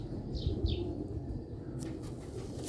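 Faint pigeon calls, pure-breed red-spotted pigeons, two short soft coos early on over a low background rumble, followed by a few brief rustling sounds.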